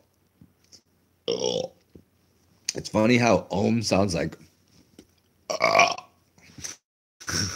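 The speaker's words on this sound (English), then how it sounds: "and one more burp." Several loud, gurgling human burps come close up, mixed in with a man's casual speech, plus a short click or two in the pauses.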